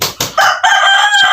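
A rooster crows loudly and close by on a Philippine farm where broodcocks are kept, a single full cock-a-doodle-doo rising and holding steady, with no talk over it.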